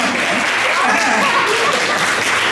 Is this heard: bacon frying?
no